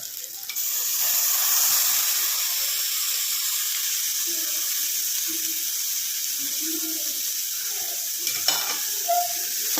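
Mixed boiled sundal with curry leaves, coriander leaves and grated coconut being stirred in a pan, soft continuous sizzle and scraping, close, with faint clinks.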